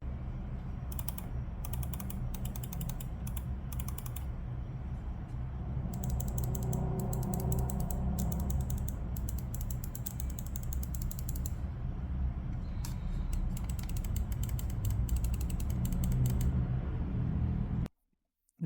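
Main buttons on an ATK X1 Pro gaming mouse clicked in rapid bursts, crisp light taps in quick runs separated by short pauses, close up and fairly quiet over a steady background hum.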